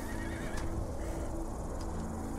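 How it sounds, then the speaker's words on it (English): Horses neigh and whinny in a Call of Duty Black Ops 2 mission, with a high whinny around the middle and another near the end over steady game ambience and faint hoof clip-clop. "We have fresh horses."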